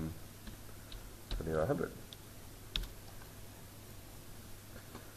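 A handful of quiet, scattered key taps on a computer keyboard while a value is entered in Revit, heard under someone speaking a number over a steady low background hum.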